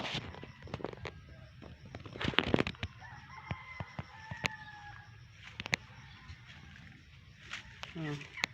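A Rhode Island Red rooster crows outdoors in a rural Leyte setting, its call moderately distant amid clucks and other bird sounds, with people talking nearby.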